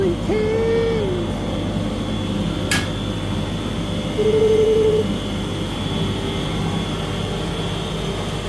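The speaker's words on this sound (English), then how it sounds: "In case you're wondering what that noise is, it's the extraction." A workshop extraction system runs as a steady, loud mechanical drone with a constant hum throughout, broken by a brief sharp knock and a couple of faint whistling tones.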